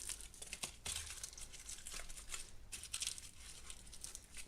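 Paper folded and pressed around by hand during a craft project, giving soft, close crinkling and rustling in uneven bursts, quiet and with no voices.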